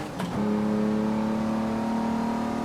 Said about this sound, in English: the second gear revs so much higher than you expect